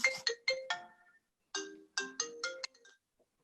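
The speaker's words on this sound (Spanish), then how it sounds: "Déjame cortar el teléfono." A mobile phone ringtone plays a short melodic phrase of bright tones, pauses, then repeats it, fairly clear and close in a quiet room with no talk over it.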